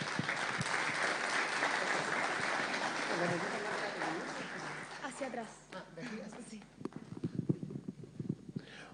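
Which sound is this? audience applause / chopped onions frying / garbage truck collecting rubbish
audience applause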